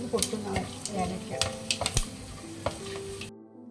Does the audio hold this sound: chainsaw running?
no